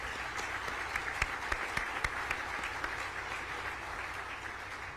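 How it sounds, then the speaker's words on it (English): Distant applause from a crowd, a soft continuous patter of clapping with a few sharper individual claps standing out early on. "that we can applaud for that"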